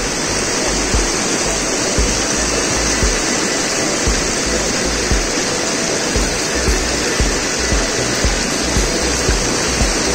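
A glacier-fed river in Sonamarg roars continuously and loudly, a dense broadband wash of turbulent water filling the whole stretch, with no voices.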